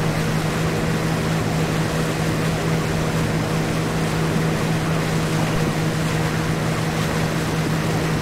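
Steady motorboat engine drone in the Tanoa video game, a speedboat running at speed near rocks, with a constant low hum and water wash underneath, loud and continuous throughout with no talking.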